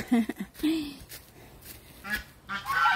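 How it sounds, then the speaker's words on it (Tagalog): Geese honk several times in a loose, irregular series, nasal and fairly close, with some outdoor background noise between calls. "Gansa."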